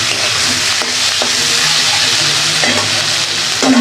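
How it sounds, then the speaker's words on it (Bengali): Ivy gourd (kundri) frying in a pan gives a steady, loud, close sizzle with a few soft stirring clicks. No one speaks. "ভাজাটা হয়ে গেছে, এবার নামিয়ে রাখবো"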